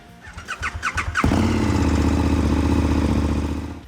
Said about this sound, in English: Number 2, KTM 1290 Super Adventure S.